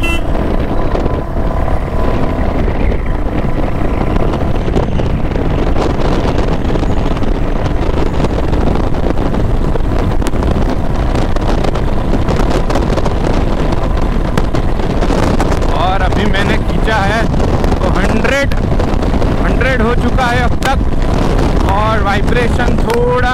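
A 2021 Royal Enfield Classic 350 motorcycle cruises along a highway, its steady engine drone buried under heavy, constant wind buffeting on the microphone throughout, with the rider talking over it.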